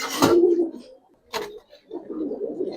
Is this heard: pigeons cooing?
yes